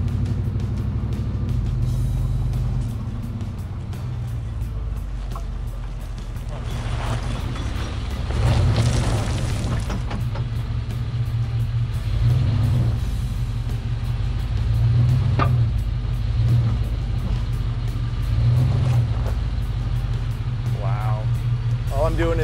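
A stock-bodied Chevrolet Tahoe on 35-inch tires crawls off-road, its engine rumbling steadily inside the cabin while the body creaks and thumps over rough ground, with people talking throughout.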